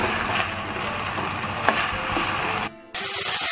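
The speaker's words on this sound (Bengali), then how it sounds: "এটাকে আমি একটু নাড়িয়ে নেব 4-5 মিনিট মতো, যাতে আলুগুলো নরম হয়ে যায় একেবারে" Potatoes frying in oil in a pan for chirer polao, stirred with a spoon: a steady close sizzle with occasional scraping clicks, briefly dropping out before returning.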